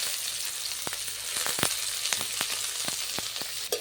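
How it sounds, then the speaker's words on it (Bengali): Chopped onion frying in oil for a radish bharta, a steady broad sizzle with scattered sharp crackles and pops throughout, close and fairly loud, no voices. "দেখুন, পেঁয়াজটা একটু ভালো করে ভাজা হয়ে গেছে।"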